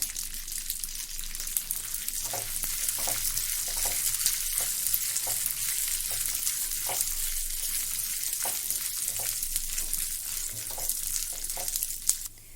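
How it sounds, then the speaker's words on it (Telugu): Peanuts frying and being stirred in a pan for hotel-style peanut chutney, a loud continuous sizzle broken by regular scraping clicks of a spoon, with no talking. "ఇప్పుడు రెండింటిని కలిపి వేయించుకుందాం."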